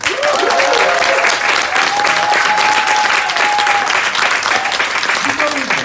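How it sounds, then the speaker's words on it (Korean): A seminar audience breaks into loud, dense applause, a continuous roar of clapping with cheering or vocal tones rising briefly over it. "크게 한번 박수 한번 보내주세요."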